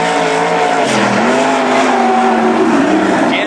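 Race machine number 69 roars past on a qualifying lap at a national event, a loud, close engine wail with a shifting, sweeping pitch as it goes by.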